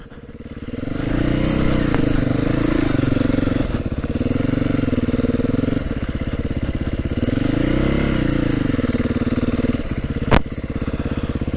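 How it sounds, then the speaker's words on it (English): A 2022 Beta 430 RR-S dirt bike ridden off-road through bushes, its single-cylinder engine loud and close, droning steadily and rising and falling in pitch with throttle, with one brief sharp knock near the end. "Let's take Brandon's bike right through the bushes. Yeah, we're off-roading now."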